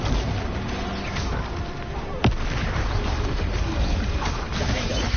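Confringo and Bombarda spells cast in the Hogwarts Legacy video game, continuous explosive combat noise with one sharp crack standing out near the middle, layered over background battle sound.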